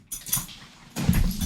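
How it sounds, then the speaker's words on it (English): A dog whines and yelps in short, excited bursts, fairly near, with a louder burst of whimpering toward the end. "we're gonna let the dog out because she's going crazy."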